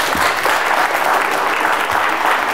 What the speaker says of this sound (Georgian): აპლოდისმენტები ლიკას